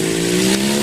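A motorcycle engine revs loudly and close, holding a steady hum for a brief moment.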